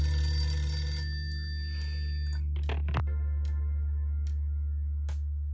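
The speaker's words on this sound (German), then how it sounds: "Und es geht direkt los mit Telefonklingeln." A telephone rings in the political video game For the People. A bright electronic ring fades into a string of soft clicking blips over a low, steady background hum.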